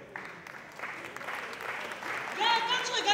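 A small crowd claps, starting scattered and swelling into fuller applause by the end, with some voices rising over it.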